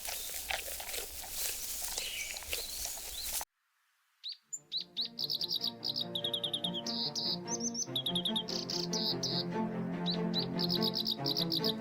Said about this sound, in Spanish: el canto de los pájaros a lo lejos